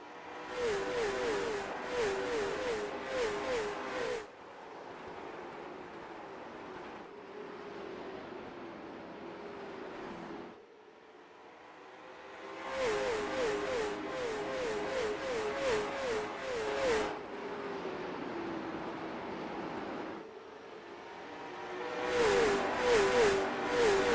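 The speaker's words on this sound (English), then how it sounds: "listen to these cars, folks" Race cars roar around the track at Lakeland on the HRT2HEART Motorsports Cars Tour. Engines rev and shift in repeated loud passes, fading to a distant drone in between before swelling again.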